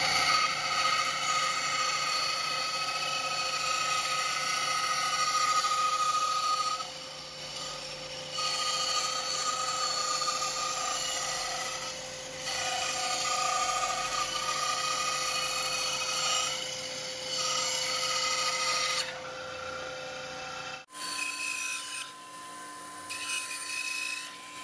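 An Einhell TC-SB 200 benchtop band saw cuts a hard, coated 15 mm marine plywood sheet, giving a loud, steady whining drone with rough sawing texture throughout, then a brief change in tone as the cut ends.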